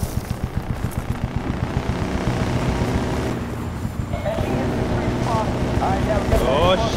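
Helicopter in Battlefield: Bad Company 2 on PC, a steady low rotor thump with engine drone throughout, loud and close, while a voice speaks over it toward the end.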